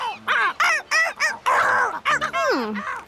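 Cartoon seagulls squawk angrily in a children's animated series, a rapid run of loud, harsh, repeated bird calls up close, one after another with brief gaps.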